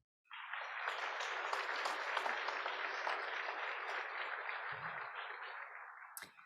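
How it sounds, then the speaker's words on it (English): Sustained applause from an audience honoring high school scholarship recipients at a Rotary scholars program, a steady crowd clapping for about six seconds before fading out. "May we have one more round of applause."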